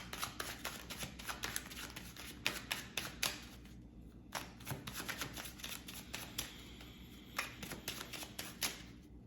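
Tarot cards are shuffled by hand in quick riffling bursts, crisp and close, pausing briefly before starting again in a quiet room.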